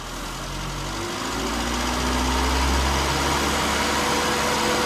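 A car engine under tuning rises smoothly from idle to about 2000 rpm and holds there, a close, steady mid-pitched drone with vibration and no talk over it.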